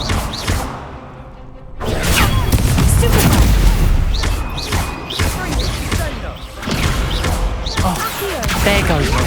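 Dense, rolling blasts and thuds from Confringo blasting spells in the video game Hogwarts Legacy, loud and near, with whooshes and crashes layered through a busy fight.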